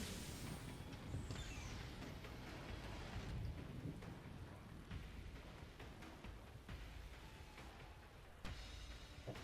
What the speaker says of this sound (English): It's like rain and like thunder in the distance.